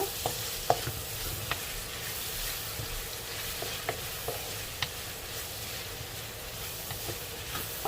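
Vegetables and Roma tomatoes are stirred in a frying pan, with a steady sizzle underneath and scattered light scrapes and clicks of the utensil against the pan, close and moderately quiet.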